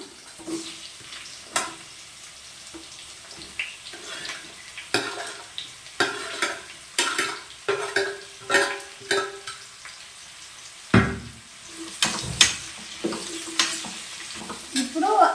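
Onions and bitter gourd frying in a pan for a sweet jaggery bitter gourd curry, a steady sizzle under repeated scraping stirs of a spatula, close and moderately loud, no talk.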